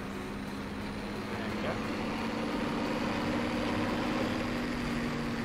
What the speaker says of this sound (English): Also, this tractor sounds awesome.